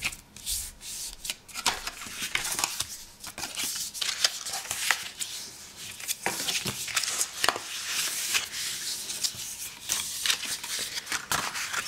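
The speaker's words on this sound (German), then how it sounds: "Als nächstes knicken wir das Papier an den Falzlinien" Paper being creased and folded along score lines while making a DIY recipe box, a run of close, dry rubbing and scraping strokes in irregular bursts with no talking.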